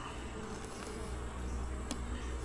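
A faint, steady insect buzz of bees hums beneath a low background rumble, with a couple of brief clicks.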